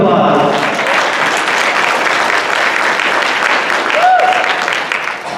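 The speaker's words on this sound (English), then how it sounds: "Give yourselves a round of applause." An audience applauds themselves at an inspirational talk, a dense, loud wash of clapping and crowd noise holding steady for several seconds before tapering off.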